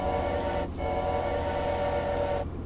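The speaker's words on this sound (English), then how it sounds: "This is how trains communicate." Train horn in the video game Choo-Choo Charles: two long, loud, steady blasts, the first cut short after about half a second and the second held for nearly two seconds, with no talk.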